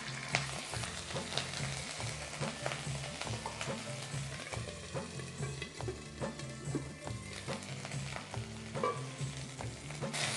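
Ginger garlic paste fries with green chillies in a pan, a steady close sizzle with frequent stirring scrapes, and no voices over it.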